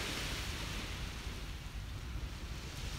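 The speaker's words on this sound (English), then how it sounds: "hopefully the sound of the waves suffice" Ocean waves wash onto a beach on a misty sunrise morning, a steady, even roar of surf with wind hiss over it, with no voices.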